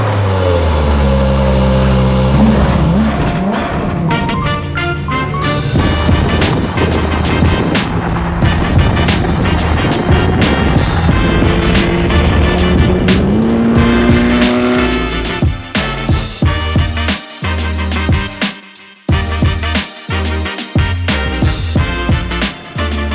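A Ferrari TDF supercar driving with no exhaust system on Michelin tires, its engine roaring loud and close as it accelerates and revs through gears, with sharp drops and bursts near the end as the throttle lifts and reopens.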